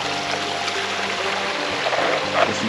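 Water flows in a creek at the foot of a steep bank along a game trail, a steady, dense rushing and gurgling that is close and even throughout, with no one talking.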